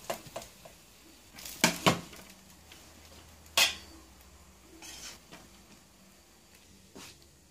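Aloo rice with ginger, garlic and tomato is served out of a pot, heard as a few scattered metal spoon scrapes and clinks against the pot, fairly quiet between the knocks.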